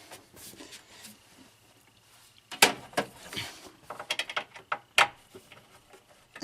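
A screwdriver loosens bracket screws inside an arcade machine cabinet, giving close, faint scraping and a handful of sharp metallic clicks and clanks that grow busier toward the end, with no talking.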